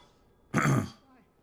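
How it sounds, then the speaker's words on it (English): A single short cough or throat-clear bursts out close to the microphone, loud and husky, then fades into a quiet room. "Every time I have to cough."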